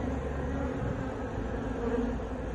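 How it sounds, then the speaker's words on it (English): Dense, steady buzzing of many honey bees around a queen fills the clip, a continuous low hum with no speech, close and fairly constant in loudness. "All the bees are going into her now."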